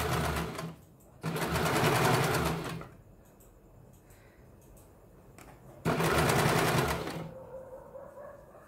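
A sewing machine runs in two loud, rapid stitching bursts along a quarter-inch seam on a blouse, with quieter handling pauses between the runs.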